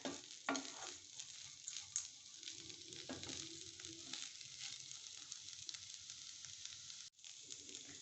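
Aval upma, flattened rice with a squeeze of lemon, sautés in a pan with a steady, close sizzle and crackle throughout, plus a few soft stirring scrapes and no talking.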